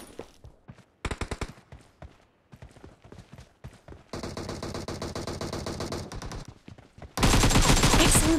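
Video game gunfire in a team deathmatch-style shooter, with bursts of rapid automatic shots, a sustained stretch of continuous fire midway and a loud, dense final barrage, interspersed with scattered single shots and thuds.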